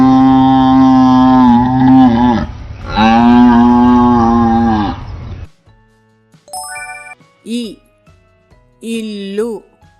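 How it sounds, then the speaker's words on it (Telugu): A cow moos in two long, loud, drawn-out calls, then bright tinkling chime notes ring out in short separate bursts. "ఆవు."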